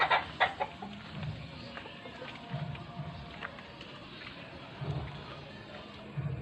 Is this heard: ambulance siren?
no